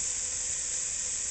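Bacon frying in a pan, a steady bright sizzle and hiss that runs unbroken at a moderate level, close by with no speech.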